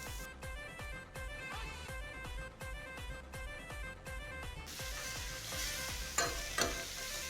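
Tomatoes go into sautéed onions in a pan for a quick tomato curry, bringing a rhythmic stirring and scraping of a spoon before a brighter, hissing sizzle swells, close and steady.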